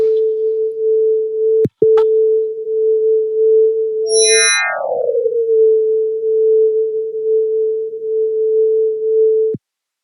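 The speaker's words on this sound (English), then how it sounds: "This is a sonification of a light curve containing a stellar flare." Sonified stellar flare light curve from Astronify: a steady loud sine-like tone holds, then a bright harmonic burst leaps high and glides smoothly back down to the same constant pitch, which continues alone until it stops abruptly.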